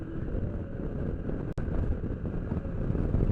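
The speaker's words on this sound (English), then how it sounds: "the wind gathers up and funnels down through the Notch, and it's definitely coming from the north today" Strong north wind gusting past a rider on a motorcycle through a mountain notch, a loud continuous rushing roar buffeting the microphone with one brief dropout, no voices.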